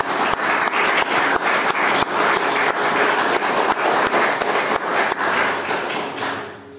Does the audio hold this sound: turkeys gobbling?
no